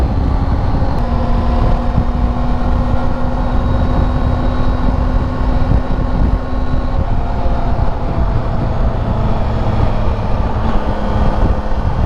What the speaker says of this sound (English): the tire noise used to be more than the engine noise.